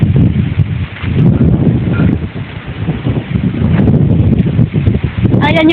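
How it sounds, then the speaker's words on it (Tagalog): Gusty wind rushes and rustles steadily across the microphone on an island, loud throughout. "Sobrang lakas ng hangin dito."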